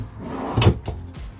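A deep kitchen drawer in a 2024 Winnebago Navion 24V motorhome slides and bumps shut, with a close, solid thud and a softer knock after it.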